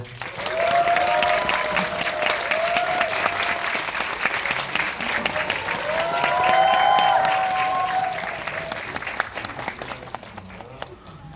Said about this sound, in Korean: 보신 만큼 재밌게 보신 만큼 큰 박수 한번 주세요